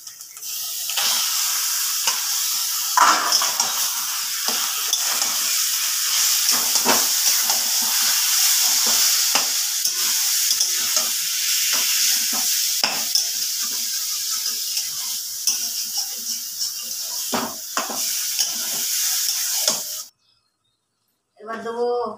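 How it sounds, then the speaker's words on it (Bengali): Colocasia leaves sizzle and hiss as they fry in hot oil, with steady spatula stirring and scraping throughout, loud and close, before the sound cuts out near the end. "তেলের মধ্যে দিয়ে দেবো কচুর শাকটা।"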